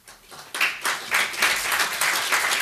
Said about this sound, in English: So I'd just like to have them stand and give them your applause.